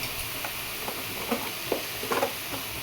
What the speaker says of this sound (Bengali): রাখা লাউগুলো এবার দিয়ে দেবো দিয়ে ভালো করে নাড়াচাড়া করবো